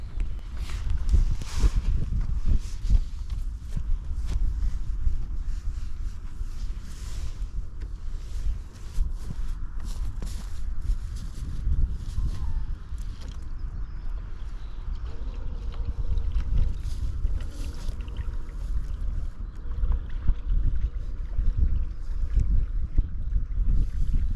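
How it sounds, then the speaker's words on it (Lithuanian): Strong wind sweeps across a lake during early-spring carp fishing in cold water, a continuous close roar of gusts and microphone buffeting, with no voices. "Vėjas žiaurus."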